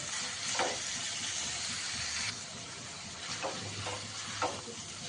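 Mutton mince sautés in a pan and is stirred. A soft, quiet sizzle runs under a few scraping strokes of the spoon through the meat.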